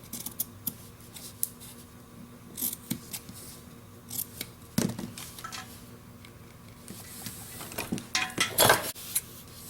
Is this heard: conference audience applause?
no